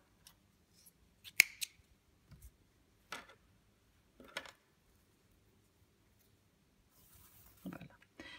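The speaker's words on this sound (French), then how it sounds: "On va couper une bonne longueur de fil" Scissors snip through a length of crochet yarn in a few short, crisp cuts spread across the moment, close and fairly quiet, with soft handling noises between them.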